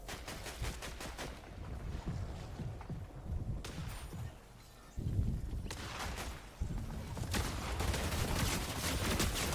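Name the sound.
SMG gunfire in a video game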